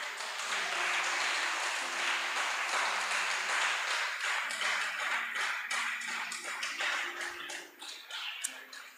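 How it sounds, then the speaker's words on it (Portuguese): A church congregation claps for Jesus during a sermon: dense, steady applause fills the room throughout, thinning slightly toward the end. "Você pode aplaudir Jesus?"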